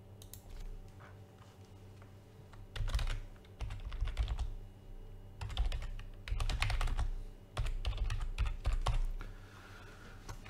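Bursts of typing on a computer keyboard, rapid clattering keystrokes in several uneven runs separated by short pauses, close and moderately loud with no speech.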